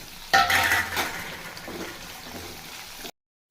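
Finely chopped onions sizzle steadily in oil in a pan with a brief clatter of utensils at the start, then the sound cuts off abruptly.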